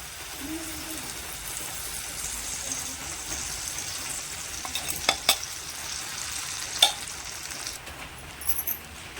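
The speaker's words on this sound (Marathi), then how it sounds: "आता हे तुपावरच चांगलं परतून घ्यायचं" Semolina soaked in ghee being roasted and stirred in a pan, a soft steady sizzle under scattered scraping taps of a spoon, with a few sharper clinks later on, close and fairly quiet.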